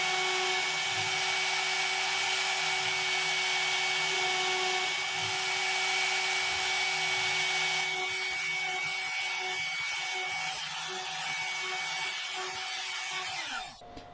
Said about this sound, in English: And now this is drilling the holes for the screws later on.